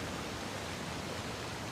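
A waterfall in Uncharted: The Lost Legacy gives a brief, steady, broadband rushing roar of falling water, constant and unbroken throughout, with no talking.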